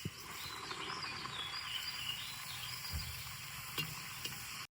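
Malvani vada dough slipped into hot oil, frying with a steady bubbling sizzle that carries on evenly, fairly faint and with no one speaking.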